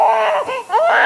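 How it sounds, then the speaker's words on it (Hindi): A baby cries in short, loud, close wails, two quick rising sobs broken by a brief catch of breath, with no talking over it. "बच्चा रो रहा है यार।"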